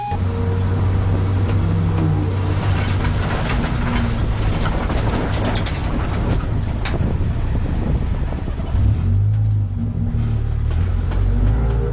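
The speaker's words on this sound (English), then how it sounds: "was able to get the car going up to full racing speed again" Race car at the Nürburgring accelerating back up to racing speed, a loud, steady engine roar mixed with heavy wind buffeting, recorded close up and continuous without any voices.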